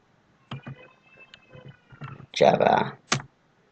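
Computer keyboard keys tapped in a command prompt window, a few scattered clicks followed by a quick dense burst of typing and one final keystroke, close and clear between pauses of speech.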